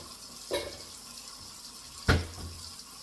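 Warm water poured from a tap or jug into a gluten-free sourdough mix, with two short splashing bursts and a low, soft trickle between them in a quiet kitchen.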